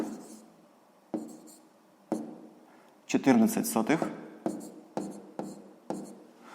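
Pen writing numbers by hand on paper while working a sixth-grade column addition of decimals: steady, close scratchy strokes in short bursts about a second apart, with a brief voice in the middle.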